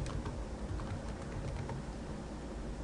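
Steady key clicks from typing on a computer keyboard while entering a lineweight command in AutoCAD, a dense, continuous patter close by with no talk.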